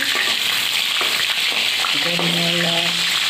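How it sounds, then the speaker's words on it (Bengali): Paneer and cauliflower fry in hot oil in a wok, giving a steady, close sizzle with soft crackling throughout and a few brief tonal sounds near the end. "আগে পনিরটা আমি ভেজে নেব।"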